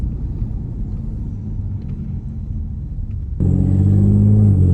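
A 2013 Hyundai Genesis Coupe 3.8 R-Spec V6 pulls away on a local road, with a low idle rumble that jumps into a loud, strained engine roar partway through as the car accelerates hard.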